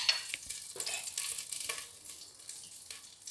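Vegetables hitting a hot pan in a home kitchen while cooking a veg pulao, with steady close sizzling and frying and the scrape of stirring, fairly quiet, no voices.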